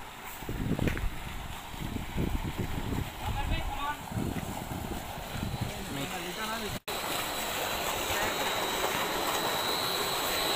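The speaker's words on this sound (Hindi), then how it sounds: "ये जो मोटर है शमसी प्लेट पर चल रही है।" A tube well water pump motor runs on solar panels in a village, giving a steady droning hum under nearby talk, then continuing alone after a short break.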